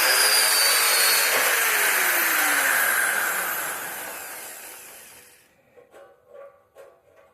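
A Towallmark 7.5-amp hammer drill with an aluminum alloy housing and 1/2-inch chuck drills using a black bit, a loud continuous whining roar that winds down after about five seconds, followed by brief talk.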